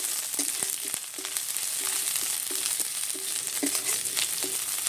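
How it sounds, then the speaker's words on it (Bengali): Vegetables sizzle steadily in a pan while a utensil stirs them, adding frequent short scraping taps over the constant close frying hiss, with no talking. "একটু নেড়ে চেড়ে নিচ্ছি"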